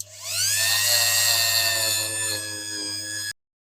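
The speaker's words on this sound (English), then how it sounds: "So here we go with our polishing wire brush to begin with." Rotary tool spinning a polishing wire brush at a low speed setting on a diecast Dinky Studebaker tanker model: a loud, steady high-pitched whine under a low hum for about three seconds, then it cuts off abruptly.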